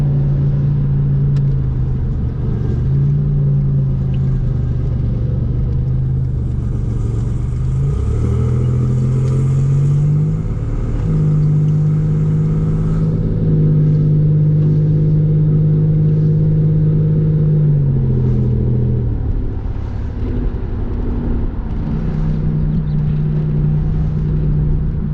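A 1987 Buick Regal T Turbo engine in gentle daily driving, a steady low drone that rises and falls in pitch as the throttle is eased in and out, continuous and fairly close with no talking.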